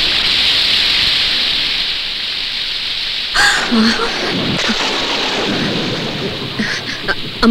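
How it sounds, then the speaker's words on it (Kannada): Heavy rain pours down as a steady, loud hiss throughout. Partway through, voices and scattered knocks join in over the downpour. "ಮಳೆ ನಿಲ್ಲಿ ಅಂತ ಕಾಯ್ತಾ ಇದ್ರು"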